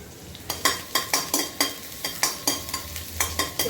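Garlic frying in a little oil in a shallow stir-fry kadhai, a soft sizzle under about a dozen evenly spaced scraping strokes of a spatula, fairly quiet.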